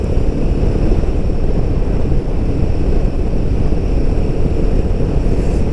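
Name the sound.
Royal Enfield Himalayan 450 motorcycle engine vibration while riding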